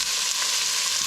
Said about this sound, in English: just give it a little bit of a stir to make sure that olive oil coats the sausages just right